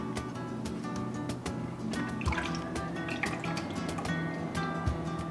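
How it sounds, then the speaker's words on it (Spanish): Whipping cream poured for a white chocolate macadamia bread pudding, a steady wet drizzling and dripping stream close up with scattered splashy drips, alone with no talk. "Aquí vamos a poner una taza de crema para batir."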